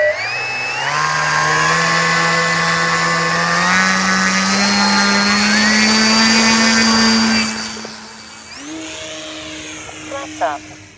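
Kavan Pulse 2200 RC plane engine throttling up for takeoff, a loud steady whine that climbs in pitch and holds for several seconds, then drops sharply and settles to a lower idle note.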